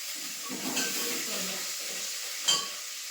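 Garlic fries in a pan with a steady, faint sizzle and hiss, broken by a few soft stirring scrapes and one brief clatter near the end.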